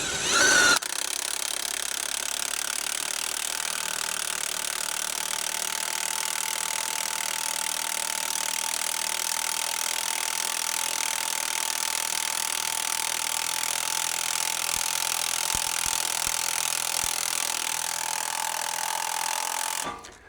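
An AGM manual jack raises a Can-Am X3 side-by-side, giving a steady, loud mechanical whirring and grinding that runs unbroken for about twenty seconds, with a few faint low knocks near the end.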